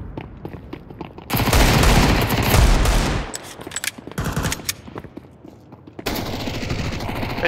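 Counter-Strike 2 gunfire: a loud sustained burst of automatic fire, then scattered shots and a second rattling volley, up close with no talk.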